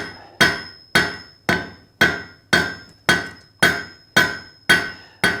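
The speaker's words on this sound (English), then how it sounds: "So we're going to get to forging this out, bending it, and preparing it for the weld." A hammer strikes steel on an anvil while a treble meat hook is being forged, ten evenly spaced ringing blows at a steady rhythm, loud and close, each decaying before the next.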